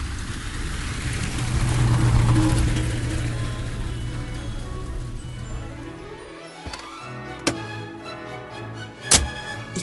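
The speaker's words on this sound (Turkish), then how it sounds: "İki gün sonra parlak bir araba çiftlik arazisine süzüldü." A shiny car rolls onto farmland as a broad, rushing engine rumble that builds, then fades, followed by a few sharp thunks like a door closing.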